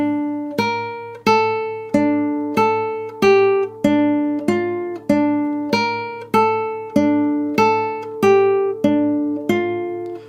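A guitar in standard tuning plays a video game main theme as a simple melody of clear plucked single notes, about one every half second to second, each ringing and decaying before the next.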